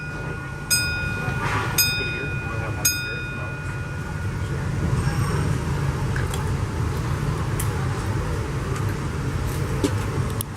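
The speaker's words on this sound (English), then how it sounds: "The train is going to be moving in just a second." The Disneyland Railroad steam train, pulled by the C.K. Holliday locomotive, rumbles steadily and loudly throughout, with a few brief high-pitched tones ringing out near the start.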